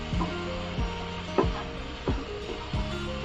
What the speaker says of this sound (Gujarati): અને મરચું નાખીને આને વ્યવસ્થિત આપણે હલાવી લઈશું